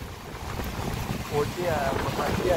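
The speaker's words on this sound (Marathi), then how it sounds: "दिस इज सो वाइल्ड एकदम खवळलाय समुद्र" Rough monsoon sea churning along the Konkan coast, a loud continuous roar of surf with heavy wind buffeting the microphone and voices talking over it.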